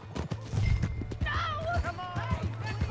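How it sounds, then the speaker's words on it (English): Horse hooves beating a quick clip-clop rhythm in the Red Dead Redemption 2 video game, with people shouting and talking loudly over the galloping. "That's my horse!"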